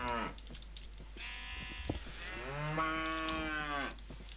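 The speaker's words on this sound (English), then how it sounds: "Forgot just how noisy cows were." Several Minecraft cows moo one after another in long, drawn-out calls, loud and close, overlapping in places with no talking.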